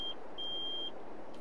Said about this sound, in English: I didn't notice that beep before, so beeps.